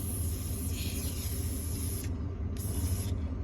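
Spray can of lubricant hissing onto hitch pipes, a steady close aerosol spray that cuts off briefly and resumes, with no talk over it.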